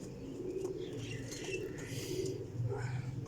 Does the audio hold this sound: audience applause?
no